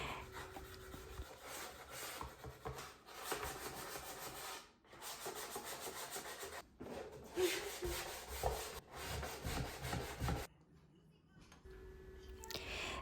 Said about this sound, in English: we are sanding it over the black paint to smooth it out and give it a vintage rustic look